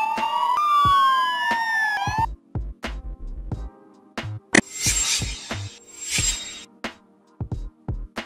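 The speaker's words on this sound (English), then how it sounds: "Ambulance van, a specialized van used for emergency medical response and patient transport." An ambulance van siren wails in rising and falling sweeps, then gives way to short horn blasts and warbling bursts, loud and close with no talking.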